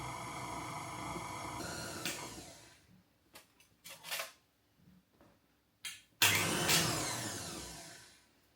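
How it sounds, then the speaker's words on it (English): An electric mixer whirs through icing sugar in a home kitchen, running steadily, cutting out, giving a few short bursts, then roaring loudly again near the end; no talking. "Turned the mixer the wrong way and ended up covered in icing sugar."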